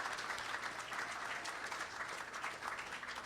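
A congregation applauds at an Easter Sunday church service, a soft, steady patter of many hands clapping, fairly distant and even throughout.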